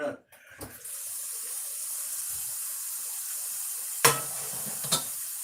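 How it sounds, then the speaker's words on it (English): Cold tap water pours steadily over just-cooked ramen noodles in a strainer, a continuous hiss and splash that runs nearly the whole time, with two short sharp clanks near the end. "hit your ramen with cold water and stop that cooking process"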